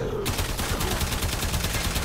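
A Braton Prime assault rifle fires in Warframe, a loud, close stream of evenly spaced shots in a steady rapid rhythm that continues without a break.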